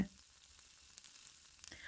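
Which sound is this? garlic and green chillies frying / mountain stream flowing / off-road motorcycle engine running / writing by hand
garlic and green chillies frying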